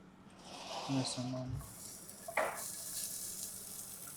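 Onions frying in a very small amount of oil in a pan, a soft sizzle with stirring scrapes and a brief clatter, faint and close under a person talking.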